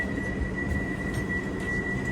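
London Piccadilly line Underground train, a steady low rumble with a sustained high whine running through it, moderately loud and continuous for a couple of seconds without talk.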